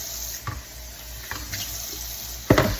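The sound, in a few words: tap running cold water into a bowl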